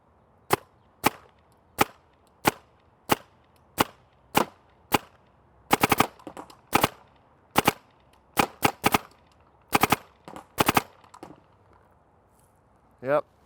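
Paintball marker fitted with an Empire Battle Tested Apex 2 barrel firing outdoors: crisp, hollow pops spaced about a second apart at first, then quicker double and triple shots, each close and clear against quiet surroundings.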